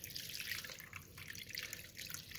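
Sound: adding water to corned beef in Dutch oven

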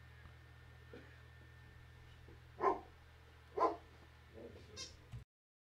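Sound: dog barking indoors

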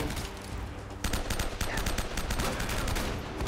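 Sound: sniper rifle gunshots in a video game

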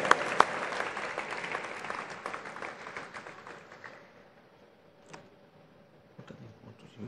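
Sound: audience applause

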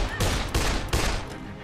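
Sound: gunfire in the video game Dead Island

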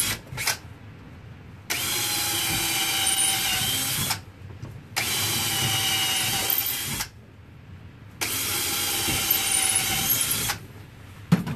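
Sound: power drill driving nails into hardwood

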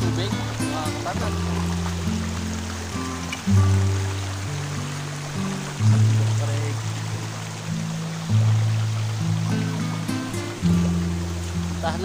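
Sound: flowing water at farm lot lagoon

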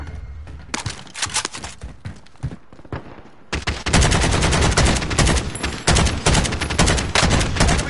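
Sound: AK rifle gunfire in video game Warzone

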